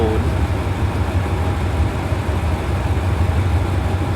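A Hitachi 4520 diesel-electric locomotive with a 2,500-horsepower turbocharged engine runs at Ban Pong station in Thailand, hauling express train 84, giving a loud, steady, close rumbling throb with no pauses.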